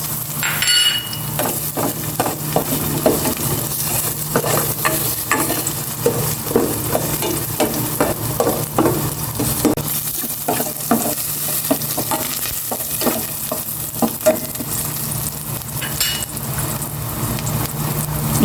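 Onions sauté in a hot pan with a steady sizzle, broken by repeated clinks and scrapes of a spatula stirring against the pan throughout.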